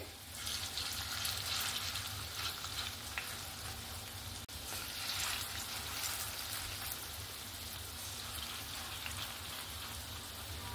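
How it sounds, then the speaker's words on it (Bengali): Steady hiss of fritters frying in hot oil, a dense crackling wash that holds evenly throughout with no voices. "এগুলো ভাজা হোক, তারপরে আবার পরেরটা ভেজে নেব।"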